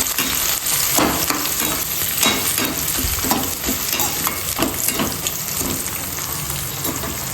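Chopped onion sizzles loudly in a hot pan over a high flame while it is stirred, and the spoon scrapes in a rough, repeated rhythm over a constant frying hiss.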